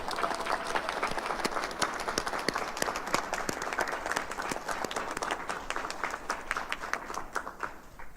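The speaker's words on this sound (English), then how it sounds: "Can you please give her a round of applause?" Audience applause at a college board of trustees meeting, crisp individual claps blending into a steady round that tapers near the end.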